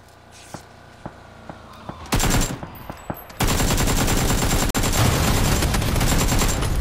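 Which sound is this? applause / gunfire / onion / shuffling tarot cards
gunfire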